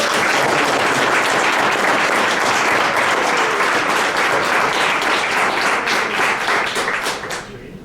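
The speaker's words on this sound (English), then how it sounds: "Let's give Katrina a round of applause." An audience at a neighborhood champion awards event in Sioux Falls applauds Katrina with loud, dense clapping that holds steady for several seconds, then tapers and fades out at the end.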